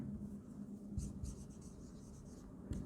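A pen scratches across paper while an accounting journal entry for cash is written, quiet close-up strokes with a few brief louder scrapes and no speech.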